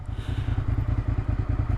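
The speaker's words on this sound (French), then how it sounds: "on est sur un moteur qui prend pas mal de tours" A Suzuki SV650 twin-cylinder motorcycle engine runs close by with a steady, pulsing low rumble, its throbbing firing beat repeating evenly throughout.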